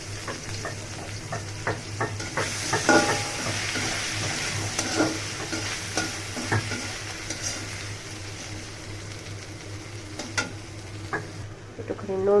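Green chilies and ginger fry in a hot pan for a home-style potato curry, a steady close sizzle broken by repeated scraping stirs of the spatula, with no talk.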